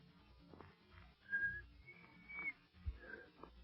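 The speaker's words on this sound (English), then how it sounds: "Oh, shucks, I never could whistle." A person tries to whistle in a radio drama, producing a few thin, wavering whistled notes in short breathy bursts over quiet background noise.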